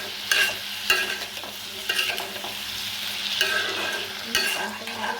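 Green chillies fry in a pan for a potato curry, a low continuous sizzle with regular scraping stirs every second or so, close up and without speech.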